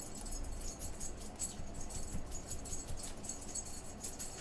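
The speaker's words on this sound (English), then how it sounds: "That is my dog scratching herself." A dog scratching herself while her collar jingles, giving a steady, close metallic rattle and soft scuffing through the whole stretch, with no voices.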